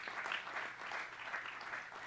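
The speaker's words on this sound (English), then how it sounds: "And I would ask that we just give him another round of applause" Audience applause at a lecture during a 2014 symposium, a steady wash of many hands clapping at moderate, even volume throughout.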